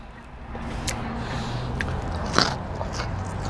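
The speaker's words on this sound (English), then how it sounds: "Couple more fries, I'm good on the fries." Someone eats In-N-Out french fries up close, with soft chewing and bites and one sharp crunch midway through.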